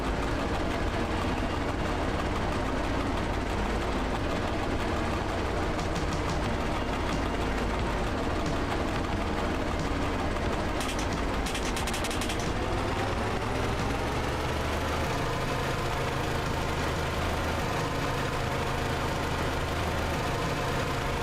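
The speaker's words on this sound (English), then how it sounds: "After all, I'm driving diesel locomotive." A diesel locomotive in a train-driving video game runs steadily at night, its deep engine drone continuous and loud throughout, with a brief rattling burst partway through.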